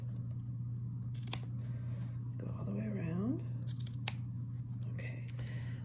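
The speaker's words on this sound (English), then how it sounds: "fabric shears a little sharper, easier to make a more precise" Sharp fabric shears snip through scrap fabric while mending, giving a few crisp, sparse cuts close by over a steady low hum.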